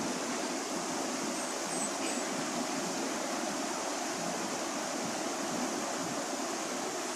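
Steady, soft rushing of the Puyao river flowing over rocks in a mountain picnic setting, a continuous even wash of water heard from a short distance.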